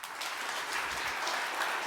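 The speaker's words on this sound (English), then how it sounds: "Big round of applause" An audience applauds after a talk about maker cities, a brief even wash of many hands clapping, steady and moderately distant with no talk.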